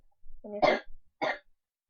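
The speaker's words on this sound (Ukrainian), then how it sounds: "брат знов кашляв" A couple of short, close coughs in quick succession, with a brief throat-clearing sound before them, in an otherwise quiet room.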